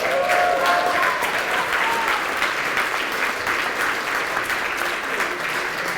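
Audience applause at a Bloc Québécois political rally in Québec: a dense, sustained wash of clapping that fills the whole stretch at steady loudness, with a few cheers and voices mixed in.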